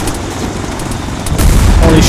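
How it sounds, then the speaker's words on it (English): A big explosion in the military game Arma 3 booms loudly, swelling into a heavy rumbling blast over a dense wash of battlefield noise. "That was a big explosion right there."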